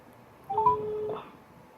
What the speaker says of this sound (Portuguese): Vou ligar aqui pro Scott Calton.